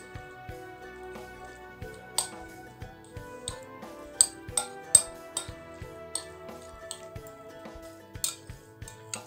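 Metal spoon clinks and scrapes against a bowl while mixing potato filling ingredients, a quiet irregular series of sharp taps and chinks, close and isolated.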